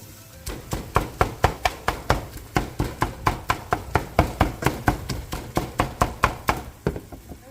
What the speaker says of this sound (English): I can go ahead and start cutting into it and slicing it for egg salad sandwiches